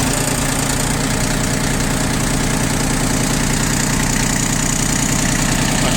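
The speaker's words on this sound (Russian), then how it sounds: "Так вот запускается трактор." A Yanmar F15D tractor engine runs loud and close in a steady, rapid diesel clatter with constant vibration, no pauses, no talk over it.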